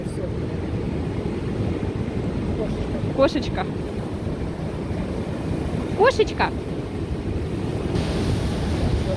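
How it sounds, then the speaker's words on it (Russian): Stormy sea surf washes in a steady roar near a seaside fence, mixed with gusty wind buffeting the microphone. Someone speaks briefly twice over it. "Море шумит,"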